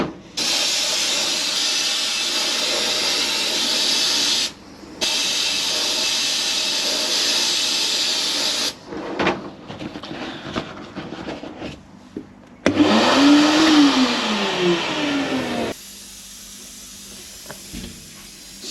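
A sandblaster blasts a glass panel through a stencil and gold leaf in a workshop, with loud steady hissing bursts separated by short pauses and quieter clattering handling sounds in between.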